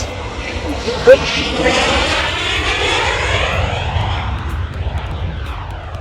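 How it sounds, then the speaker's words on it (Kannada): A Transavia airliner takes off at Amsterdam Schiphol, its engines roaring loudly and sweeping past with a shifting rumble, while people talk nearby. "Transvia flight"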